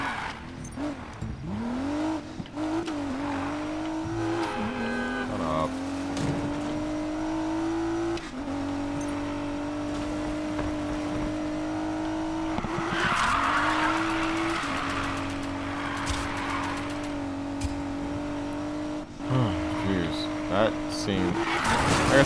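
A car in the Need For Speed Payback racing game drives with a sustained engine drone that rises and shifts, with tire squeals and skids over stretches. Someone talks over it throughout.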